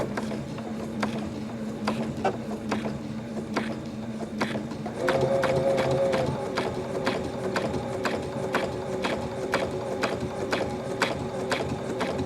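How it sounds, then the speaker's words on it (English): A Baby Lock Aspire sewing machine runs quietly with a fast, even mechanical ticking of the needle, steady throughout with a slight shift in pitch partway, and no talking. "I'm going to tell you which is the quietest of all the machines I own. My Baby Lock Aspire is."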